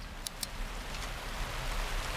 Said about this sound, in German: Und jetzt kommt noch Regen dazu.